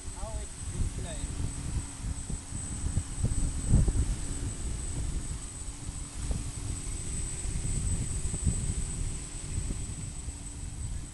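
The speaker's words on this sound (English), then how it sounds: "Let's check with another propeller. How it is flying." Tricopter drone fitted with a new propeller flying outdoors, a steady buzzing motor drone with wind rumble, while people talk nearby throughout.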